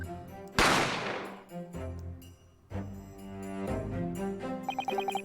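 Gunshot in The Great Ace Attorney video game: a single loud, sharp blast followed by a decaying ring, then dramatic game music with staccato stabs carries on without speech.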